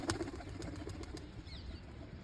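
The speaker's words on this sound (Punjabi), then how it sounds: "ਇਹ ਹਰਾ ਬੁੱਟਾ ਦਾ ਉੱਡ ਗਿਆ" A quick run of soft, rhythmic wingbeats as a pigeon takes off and flies away, fairly faint against a low background hum.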